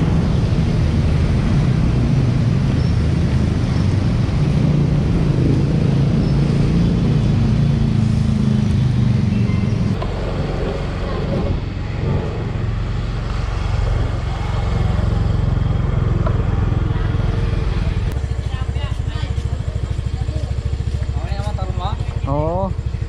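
Heavy road traffic in Balintawak, with cars and motorcycles including a Mio i 125 scooter, forms a loud, steady engine drone close by, with voices talking over it throughout.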